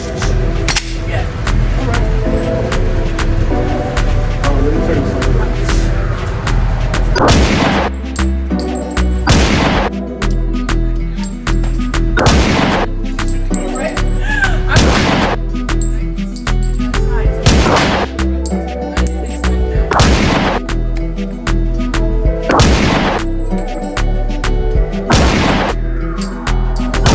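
Rifle shots fired one at a time ring out loud and close, about ten sharp reports at a fairly steady pace over a continuous low background.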